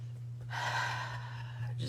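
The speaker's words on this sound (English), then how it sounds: "Let's start with a little breath." A single audible breath drawn in and released to center and ground, close and fairly loud over a steady low electrical hum.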